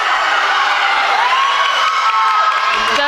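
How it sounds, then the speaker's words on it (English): A crowd of teammates and fans at a high school swimming meet cheers loudly and continuously, with shouts and whoops echoing in an indoor pool during a close race. "With the team and the fans cheering on Seth"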